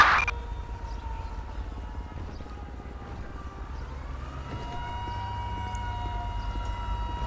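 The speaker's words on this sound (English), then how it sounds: "so I hear the fire truck coming." Fire truck siren from GTA 5 rising in a steady wail over a low engine rumble, drawing nearer and growing louder through the stretch, with no talk over it.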